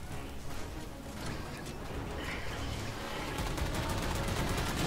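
Sustained gunfire and turret fire in a Halo 4 battle, a dense continuous crackling barrage with rapid shots blending together, loud and unbroken with no talking.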